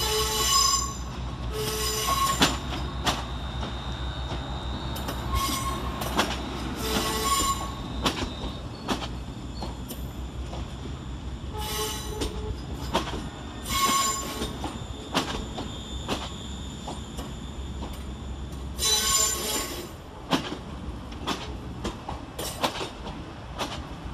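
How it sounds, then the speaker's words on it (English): West Midlands Railway class 350 electric train arriving at Wolverhampton station, wheels squealing in repeated high-pitched bursts over a low rumble, with rhythmic clicks of wheels over rail joints as it slows along the platform. "Arriving to terminate with a West Midlands Railway service off Walsall"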